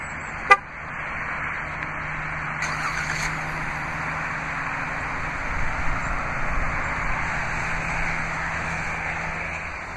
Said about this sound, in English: To activate is easy, just double press the remote start button on the key fob.